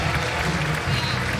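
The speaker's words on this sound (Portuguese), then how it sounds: "Uma salva de palmas para Jesus, irmão" A church congregation applauds for Jesus in a dense, continuous wash of clapping, with voices mixed in underneath.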